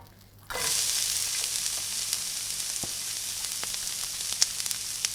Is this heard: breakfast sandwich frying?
yes